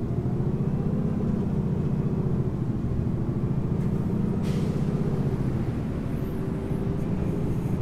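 Steady low engine rumble of a bus idling and driving in OMSI 2, continuous and fairly loud, with a brief hiss of air brakes midway.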